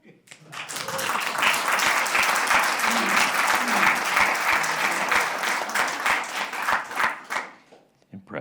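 Sustained audience applause for a long-serving engineer at a developer conference panel, dense steady clapping that swells quickly, holds for several seconds and then tapers off.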